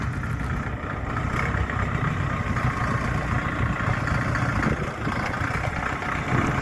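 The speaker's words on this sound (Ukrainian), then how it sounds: "Чотирьохциліндровий дизельний двигун" A Jinma 404 tractor's four-cylinder diesel engine idles steadily nearby, a low, even rumble with a rough mechanical chug and no change in speed.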